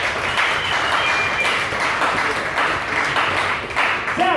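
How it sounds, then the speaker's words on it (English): A comedy club audience gives a round of applause, a broad wash of clapping that holds at a steady, full level from start to finish. "give another round of applause for him"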